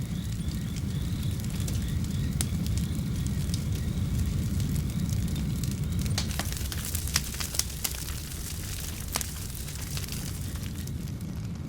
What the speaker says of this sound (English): Just a little spark sets the bush ablaze.